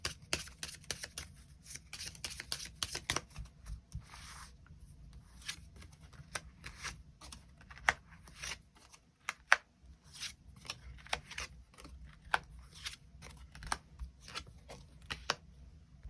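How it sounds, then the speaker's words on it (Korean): Tarot cards are shuffled and drawn in a quiet room, a soft close run of rapid riffling flicks and slides, then scattered single snaps and rubs as cards are pulled and laid down. "추가 카드 뽑아보도록 하겠습니다"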